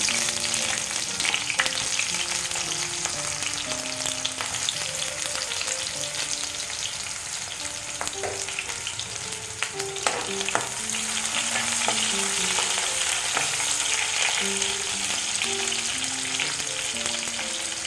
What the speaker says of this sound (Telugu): ఇప్పుడు మనం దీనిలో ఆనియన్స్ వేస్తున్నాం.